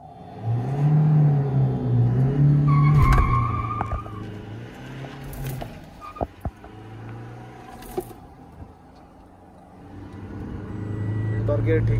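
A Mahindra XUV races a Toyota Innova Crysta with engine revs that rise and fall, whirring drivetrain and tire noise, and a few sharp knocks, while voices talk over the cars.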